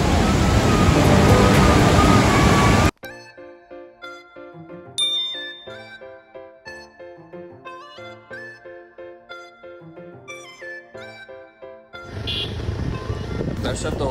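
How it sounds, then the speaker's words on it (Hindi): A river near Dharamshala runs fast after heavy rain and a cloudburst, its loud, broad rushing roar filling the opening seconds and returning at the end. Bright chiming bell-like music plays in between. "आप भी पीछे देख रहे हो कितनी स्पीड से पानी बह रहा है।"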